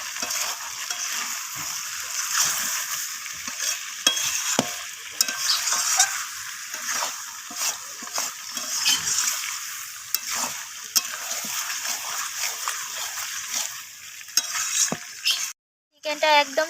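Chicken with green peas is stirred and sautéed in a pan: a continuous sizzle with repeated scraping strokes of a spatula, close and fairly loud, cutting out briefly near the end before resuming.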